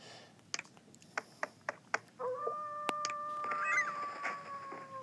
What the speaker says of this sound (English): Go ahead, chicken.